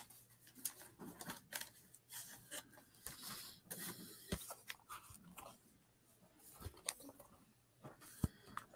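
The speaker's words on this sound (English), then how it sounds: "Okay, I'm gonna grab this and put it on the printer." Office printer running at a record and CD sale, giving a low steady mechanical whir with scattered clicks, rubs and rasping knocks over about nine seconds, fairly quiet in a room.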